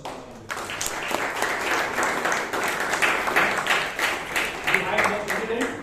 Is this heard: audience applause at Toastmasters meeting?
yes